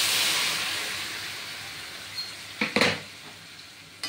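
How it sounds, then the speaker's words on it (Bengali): Boiling hot water poured into a hot pan of fried vegetables for a vegetarian curry gives a loud, steady hiss of steam that slowly fades, with a few clattering knocks near the end. "এবার আমি এক গ্লাস ফুটন্ত গরম জল দিয়ে দেব।"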